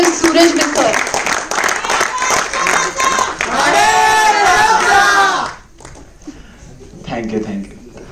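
Audience at a Rotaract club installation ceremony applauds loudly and steadily for about five seconds, then the clapping stops abruptly and a speaker begins talking in the quieter room.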